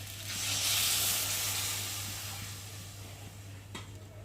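Water poured into a pan of fried spice paste for a fish curry with amodi fish sets off a loud, broad sizzle that swells early and then slowly fades into a steady hiss.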